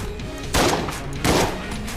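Shotgun blasts from standard buckshot in the twin-stick shooter Enter the Gungeon, two loud broad bursts about three-quarters of a second apart over a dense, busy game soundtrack.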